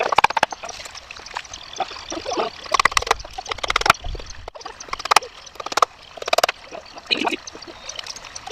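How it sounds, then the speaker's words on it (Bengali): Water splashes and trickles into a rooftop water tank in irregular, fairly close bursts, with brief louder gushes breaking through a steady background flow. "জল ছেড়ে দিয়েছি, জল পড়ছে।"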